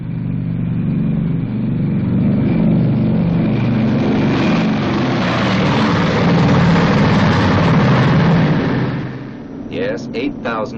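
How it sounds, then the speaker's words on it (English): A B-29 Superfortress running its four Wright 3350 engines, a loud, continuous, heavy roar that holds steady, then drops away near the end. "And those are its 4 Wright 3350 engines."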